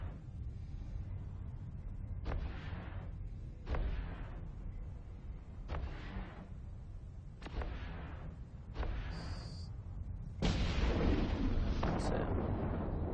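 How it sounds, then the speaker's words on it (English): Ship guns firing in the EVE Online space game, heard as a series of heavy booming shots spaced about one to two seconds apart over a low droning hum. A louder, denser burst comes near the end. "Turn gun on."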